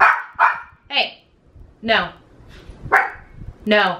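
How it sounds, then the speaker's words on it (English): A pet dog barks in short, sharp bursts, about six times in quick succession, close by and loud, with a person briefly speaking between barks. "my dog was barking"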